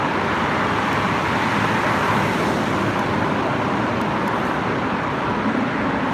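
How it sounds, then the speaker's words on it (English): Cars pass on a Los Angeles street during a protest, a continuous loud roar of road traffic with no clear gaps, steady wash of tyre and engine noise throughout. "the sound of these cars driving by"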